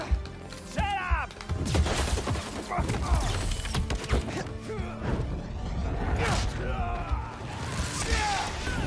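Gunfire and crashing impacts in the Spider-Man 2 video game, with dense bursts of shots, smashes and whooshes throughout and game voices talking over the action.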